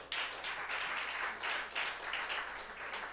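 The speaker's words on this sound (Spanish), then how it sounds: "Démosle un fuerte aplauso a Cristo." A church congregation breaks into loud, sustained applause during a Spanish-language sermon, a dense wash of many hands clapping that swells and ebbs over a few seconds with no voices on top.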